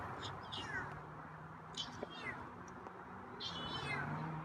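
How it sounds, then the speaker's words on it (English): A feral cat meows several times, close by and fairly quiet, with drawn-out rising cries spread across the clip over a low background hum. "Heard you meow a couple times."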